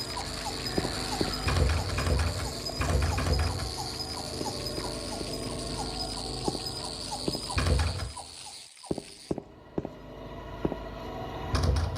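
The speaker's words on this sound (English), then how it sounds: "Those stupid bugs, man." Insects chirping in the Silent Hill 2 video game, a dense, continuous buzzing chirr with scattered pattering and clicking, loud and close, briefly dropping out near the end before resuming.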